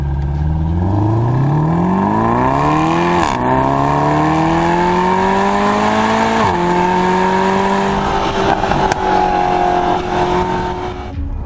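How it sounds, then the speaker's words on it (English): A Mercedes SLS Roadster's V8 engine revs hard and climbs through the gears, its deep growl rising in pitch with brief dips at each shift, loud and sustained. "this is simply one of the best sounding V8 motors you can get today"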